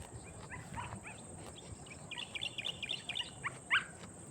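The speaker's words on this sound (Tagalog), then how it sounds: "Ganda naman ang tunog ng mga ibon na yan." Birds chirp in short repeated bursts, a brief trill in the middle and a sharper call near the end, over a steady hiss of outdoor background noise.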